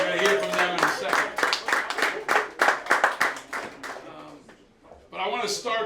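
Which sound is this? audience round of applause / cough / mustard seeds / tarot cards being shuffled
audience round of applause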